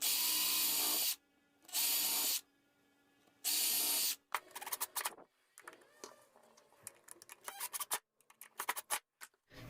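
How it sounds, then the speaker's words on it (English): Power drill boring three holes into a piece of scrap wood: three loud, sustained whirring bursts with short pauses between them, then a scatter of clattering, scraping and handling knocks near the end. "use another scrap piece not to damage your workbench, and just do 3 holes just scattered."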